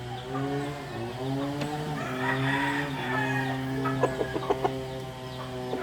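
A rooster crows in long drawn-out calls, with a few short clucks near the end, fairly close and with no voices.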